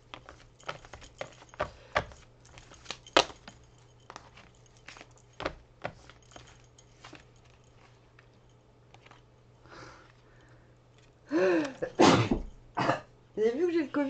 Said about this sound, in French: Vous avez vu que j'ai le Covid, j'arrête pas d'éternuer.